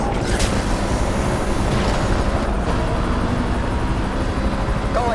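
Police helicopter in the Need for Speed Unbound racing game, its rotor and engine drone filling the scene as a constant, loud wash during a pursuit.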